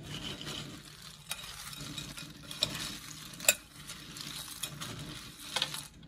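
Christmas treat ingredients being mixed together in a bowl, soft steady stirring with a few sharper clinks and scrapes of the utensil, close and fairly quiet, no voices.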